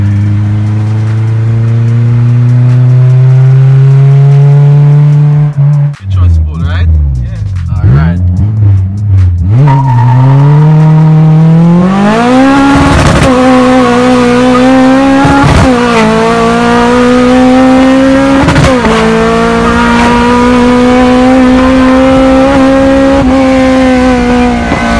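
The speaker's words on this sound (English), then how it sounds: "That's a nitrous pull." Race car on a nitrous pull, a loud close engine note climbing steadily through repeated gear changes, each shift breaking the rising whine before it surges again, with voices shouting over it.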